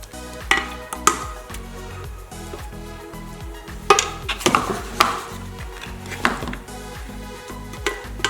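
Mango oat groats being scooped out of an Instant Pot pressure cooker: scattered metallic scrapes and clinks of a utensil against the pot, with some ringing taps, over a background of music.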